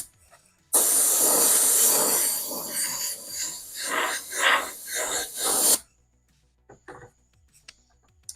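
An airbrush or spray can hisses steadily for about five seconds as fluorescent magenta paint goes onto an RC car body in a couple of coats, loud and close, swelling slightly in pulses before cutting off to quiet.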